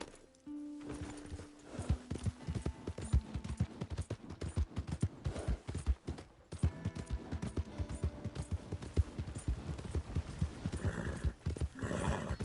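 Horse hooves clip-clop in the Red Dead Redemption 2 video game, a fast rhythmic run of hoofbeats that pauses briefly midway and resumes, with a short whinny near the start.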